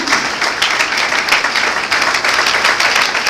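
A church congregation applauds steadily and loudly for a few seconds, a dense wash of many hands clapping together with no voices rising above it.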